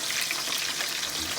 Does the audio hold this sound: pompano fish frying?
yes